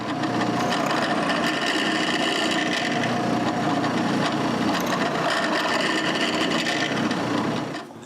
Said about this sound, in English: With the lids in place, I can mark where to drill the screws pilot hole and drill them.